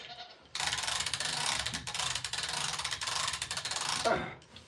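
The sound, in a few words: come-along ratchet winch hoisting a goat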